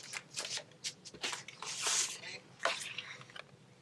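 Blue cardstock being scored in half with a scoring tool for a folded greeting card base, heard as a run of brushy scraping strokes and rustles, close and moderately loud, with no talk.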